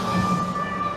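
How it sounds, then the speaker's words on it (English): A Disneyland monorail train runs past, giving a steady rumbling drone with a sustained tonal whine throughout, fairly loud and continuous, with no speech. "Monorail."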